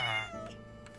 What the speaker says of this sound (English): Look at this little kitty.